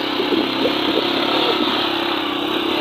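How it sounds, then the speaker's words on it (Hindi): A motorcycle ridden off-road on a rough track in the lush green Gappa Valley, Nagar, Gilgit Baltistan, at dusk; its engine drones steadily and loudly up close throughout, with no talk. "और ये ऑफ रोड हम बाइक राइड कर रहे हैं।"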